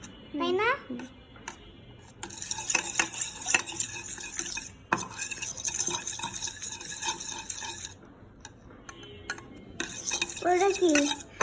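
Utensils clink and scrape against a bowl while a lemon and chili mixture is stirred, the scraping coming in bursts with pauses, a voice and other talk breaking in near the start and end.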